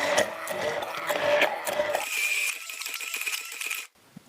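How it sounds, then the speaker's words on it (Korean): A handheld immersion blender purees mango for pudding in a tall, narrow container, giving a close mechanical whir with rattling pulses that cuts off abruptly near the end. "자, 도깨비 방망이로 갈아줍니다."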